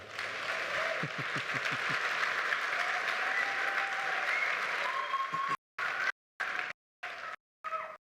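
A church audience at a Christmas-season service gives sustained, steady applause for several seconds, then the clapping cuts in and out in short bursts before ending.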